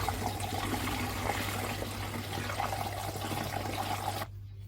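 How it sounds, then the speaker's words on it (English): Bael fruit wine mixture pours into a fermentation tank, a steady continuous liquid rush with a low background hum that cuts off abruptly near the end. "Now we will pour it into the fermentation tank."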